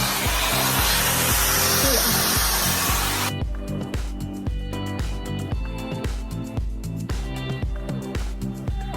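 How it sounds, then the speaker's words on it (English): A Dyson blower fitted with a diffuser attachment, set to one heat and three dots, roars in a steady broadband whoosh, then drops to a lower hum with rhythmic rustling pulses as it moves through curly hair. "For the diffusing, we're gonna be using the Dyson blower, and I added the diffuser attachment to it."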